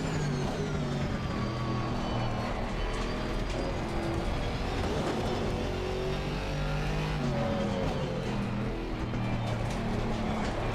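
A Volvo racing on the Nordschleife in Assetto Corsa Rally gives a continuous engine drone, revving and shifting through gears, with road and tyre noise filling the background. There is no speech.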